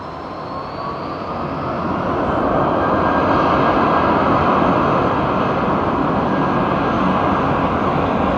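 Airbus A330neo airliner with a large flexible wing taking off at London Heathrow at sunset, a broad steady jet roar that swells over the first few seconds and then holds loud and constant throughout.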